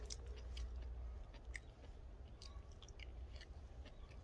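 Close, steady chewing and soft crunching of a bibimbap mouthful mixed with seasoned daisy fleabane greens, continuous and fairly quiet with no talk.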